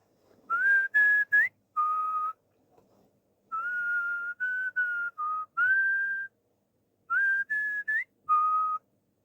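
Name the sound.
whistling intro of a song being played back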